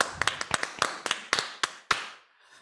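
Sparse, sharp hand claps in an irregular burst of about a dozen, close and fairly quiet, honoring team DKI at a children's religious quiz contest, fading out at the end.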